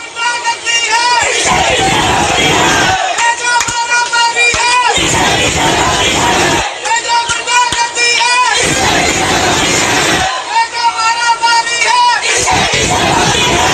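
A large crowd at a political rally for Nawaz Sharif's daughter chants slogans in loud, rhythmic call-and-response blocks, with roaring massed voices in repeated phrases, heard as a played-back recording.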